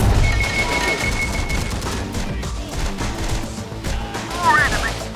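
Rapid bursts of automatic gunfire and heavy shots in the shooter game Terminator: Dark Fate - Defiance, dense and loud over a droning mix with battle chatter underneath.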